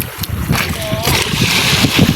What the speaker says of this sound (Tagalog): Medyo maalon-alon na po at saka maulan.